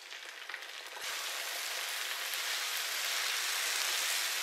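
Shallots, split green chillies and crushed ginger fry in hot oil with a dense, steady crackling sizzle that swells and holds evenly throughout.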